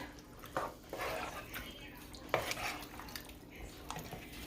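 Tomato sauce being stirred into chili in a pot, with soft scraping, wet slopping and occasional utensil knocks against the pot, fairly quiet.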